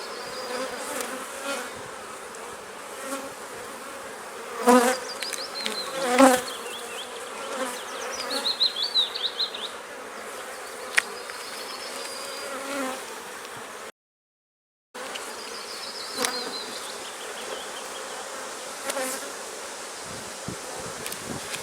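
Honeybees buzz steadily around a hive during a May beekeeping session while hives are being combined, a dense insect hum with individual bees droning close by, louder passes near the start, and a brief silent gap partway through.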